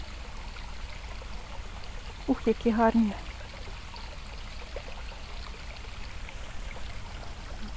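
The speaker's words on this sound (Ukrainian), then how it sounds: "Тече вода, а рибки, тут теж рибки плавають" A small waterfall and flowing water in the Palmetum botanical garden in Santa Cruz, Tenerife, give a faint, continuous trickling wash. Someone speaks briefly over it midway.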